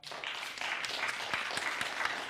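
Applause from an audience at a California drought town hall, a moderate round of clapping that rises quickly and continues steadily, with a few distinct hand claps audible and no talk over it.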